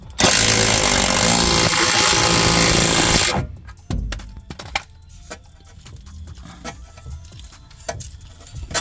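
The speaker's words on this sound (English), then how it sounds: "This is a self-threading, self-cutting bolt. So it's threading itself as it goes in." A power tool drives a self-threading, self-cutting bolt into a Corvette C5 for an amp power wire at the battery, a loud close whirring burst of about three seconds followed by clanks and handling noises.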